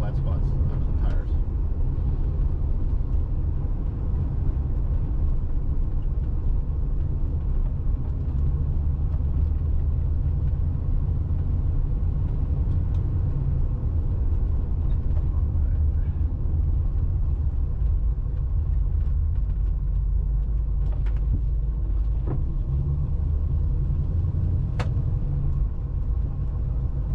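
A Plymouth Duster 360 drives on a snowy road with flat spots on its tires, heard from inside as a loud, steady low engine and road rumble with vibration throughout, while people talk in the cabin.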